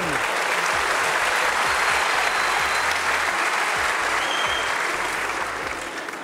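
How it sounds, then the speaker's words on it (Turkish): A television talent show studio audience applauds a contestant, loud dense clapping filling the room steadily before easing slightly at the end. "İlk defa bir yarışmacının yaşı alkış alıyor ya."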